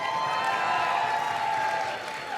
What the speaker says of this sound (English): let's just do some applause for a few of them